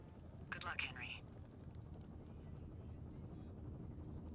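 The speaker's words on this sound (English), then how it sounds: "There's the helicopter" A helicopter in the Firewatch wilderness thrums as a steady low rotor drone that holds throughout, with a brief voice heard early over it.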